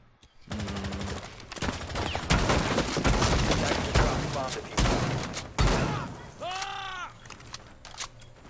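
Shotgun gunfire in a competitive first-person shooter match, a dense rapid barrage of loud blasts and thumps running throughout, with a voice briefly heard near the end.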